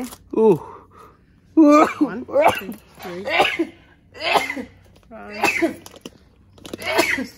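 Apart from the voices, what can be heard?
sneezes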